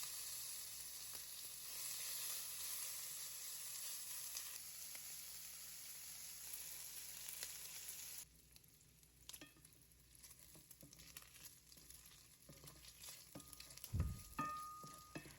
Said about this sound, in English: In a large skillet, start with the chopped bacon, let it render gently.